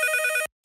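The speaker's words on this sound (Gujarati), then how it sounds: "ફરી ફોન આવ્યો." A telephone ringing in a Gujarati radio comedy sketch, one bright electronic trilling ring burst that cuts off, a short silence, then the ring starting again, loud and close.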